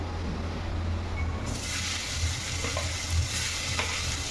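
Onions and tomato fry in a pan with a steady, dense sizzle that brightens and grows fuller after the first moment, broken by occasional soft stirring scrapes, close and continuous with no talking.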